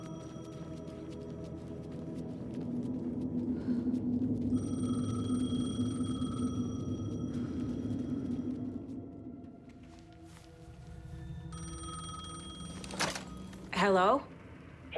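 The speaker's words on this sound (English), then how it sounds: "The payphone was ringing." A payphone in the video game Alan Wake 2 rings with repeated electronic bursts over a low ambient drone, and a brief rising tone sounds near the end.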